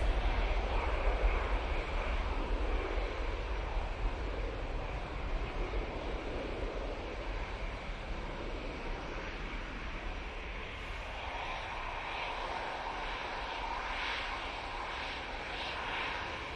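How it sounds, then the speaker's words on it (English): A Ryanair Boeing 737 with split scimitar winglets takes off from Manchester Airport bound for Rabat, giving a broad, steady jet roar that slowly fades and thins, heard from a distance with no voices. "Ryanair 737 with the split scimitars going off to Rabat."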